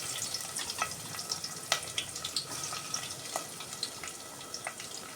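Onions and green chillies frying in a pot of hot oil, a dense close crackling sizzle with scattered sharp pops throughout, no voices.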